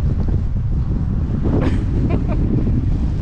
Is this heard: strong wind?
yes